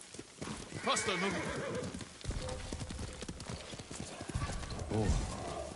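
A horse in Ghost of Tsushima neighs loudly over rhythmic galloping hoofbeats, with a second whinny near the end; a voice speaks briefly amid the clatter.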